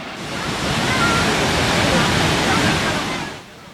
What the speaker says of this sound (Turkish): Van'ın Muradiye ilçesinde bulunan Muradiye Şelalesi